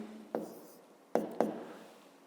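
A pen or marker writes on a board during a fifth-grade maths lesson: three short, sharp strokes, one alone and then a quick pair, faint and close, with quiet room hiss between.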